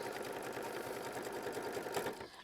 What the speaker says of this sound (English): we're going to tack that down with machine stitch step 9